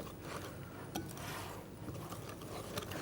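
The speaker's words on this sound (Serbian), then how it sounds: "Mešam žicom samo dok ne spojim sve sastojke." A wire whisk beats chocolate cake batter in a bowl, producing quiet, rhythmic scraping and clinking strokes close by, with no speech.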